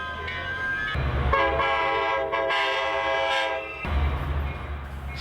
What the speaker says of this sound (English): the Dunsmuir Daylight Amtrak passenger train arrives at the Amtrak depot